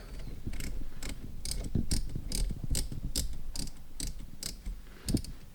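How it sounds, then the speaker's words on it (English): Tightening an ESR HaloLock MagSafe car mount onto a car air vent gives a run of close, evenly spaced ratcheting clicks, roughly a dozen over several seconds, each crisp and mechanical, with no talking. "we're going to hook this over the back of the air vent, and then we're going to tighten it."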